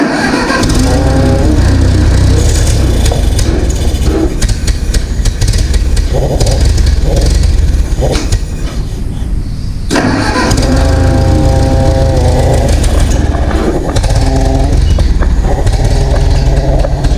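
A vintage tractor engine with a fuel issue, its carburetor running out of gas, runs loud and close, its rough chugging surging and faltering, briefly dropping away before picking back up.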